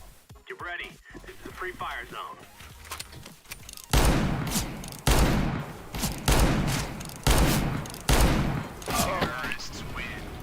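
Rapid gunfire from a cowboy-mode match in the video game CS:GO, several sharp loud shots in quick succession after an opening stretch of people talking, with voices continuing between the bursts.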